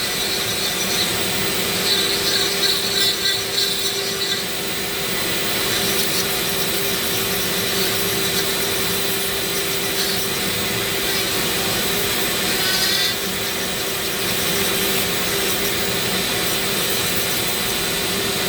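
A Dremel rotary tool carving a Medusa sculpture whines steadily and loud for the whole stretch, a continuous high buzz with small wavering shifts in pitch as the bit bites and eases off, with no voices.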